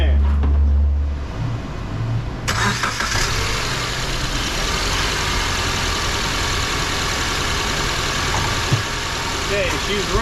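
A Subaru Forester 2.5 engine idles steadily after a restart, a continuous close, loud mechanical hum and broadband rumble with a brief shift early on, while a person's voice briefly comes through.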